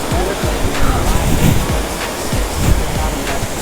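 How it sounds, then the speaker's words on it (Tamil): Water pours steadily at Kotagiri waterfalls in the Nilgiris, a loud, continuous rushing roar up close with some wind buffeting. "பாருங்க தண்ணி எப்படி போயிட்டு இருக்குன்னு."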